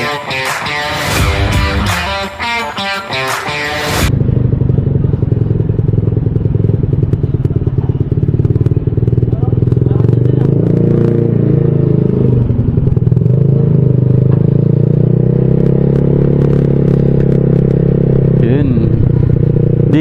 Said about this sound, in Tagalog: Di ko alam kung naririnig pa rin yung ingay ng tambucho ko